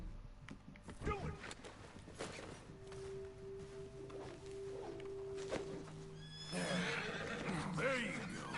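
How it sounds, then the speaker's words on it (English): Horse neighing in the Western video game Red Dead Redemption 2, a sharp close whinny near the end after rustling and a held tone, with game voices talking earlier. "Is one of you gonna get that fella's horse?"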